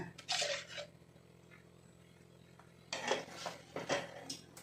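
A spoon scrapes and clinks against a pan while banana halwa with sugar and ghee is stirred, in two short bursts of metallic scraping separated by a quieter pause.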